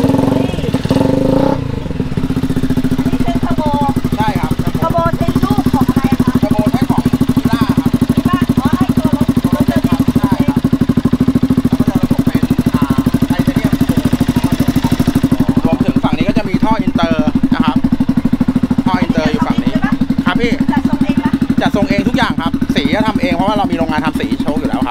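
A turbocharged Honda ADV scooter motorcycle engine runs steadily throughout, a continuous low drone with occasional revving, while someone talks over it nearby.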